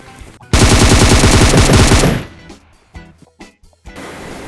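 Automatic gunfire from a gun in the video game PUBG: a loud, sustained burst of rapid shots lasting about a second and a half, followed by quieter scattered game sounds.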